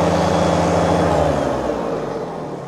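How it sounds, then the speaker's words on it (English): A 2012 Kubota BX2360 tractor runs with its mower deck engaged, a loud close engine drone with a whirring hum that gradually fades over a few seconds. "And show you the mower deck works."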